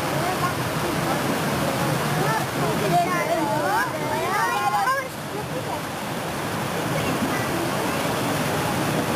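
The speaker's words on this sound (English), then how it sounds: "water turning the wheel" Water turns the wheel of an old mill, making a constant rushing roar with faint voices audible beneath it.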